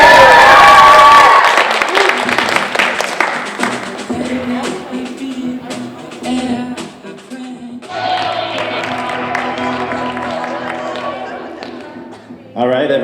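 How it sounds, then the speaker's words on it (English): A school story slam crowd of tenth graders and guests claps and cheers, a loud burst at first that thins into scattered claps, taps and thumps, with another swell of applause later and voices mixed in. "One more round of applause for Elijah, everybody!"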